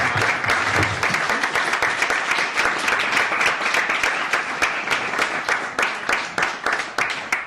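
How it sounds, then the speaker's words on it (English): A room of attendees at a literacy-organization career talk gives a full round of applause, sustained, dense clapping that stays loud throughout and thins slightly toward the end. "Let's end that with a round of applause."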